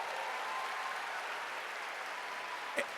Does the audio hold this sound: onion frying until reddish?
no